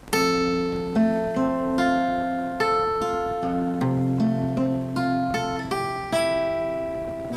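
Electric guitar plucking the strings through a fingerpicked section of a song, with steady ringing notes and sustained chords played alone, each pluck clear and close with no talking.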